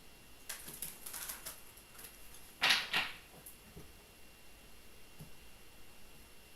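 Tarot cards being shuffled, a few soft riffling bursts with one louder flurry in the middle, close and quiet with no talking.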